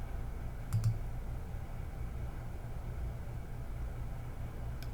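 Two quick computer mouse clicks close together, fairly faint against a steady low background hum, with one more soft click near the end.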